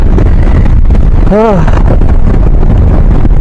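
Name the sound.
strong cold wind blowing on motorbike rider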